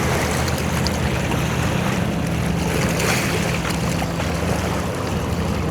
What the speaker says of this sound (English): You can probably hear the water really coming back now.